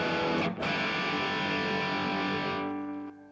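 An electric guitar played through a Vox AC30 amp with the treble booster switched off and a single pickup selected rings out with a thick, sustained distorted chord that slowly decays, heard alone and fairly close.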